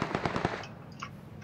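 In PlayerUnknown's Battlegrounds, a rapid burst of about five loud automatic gunshots rattles out in quick succession, then fades into quieter scattered reports.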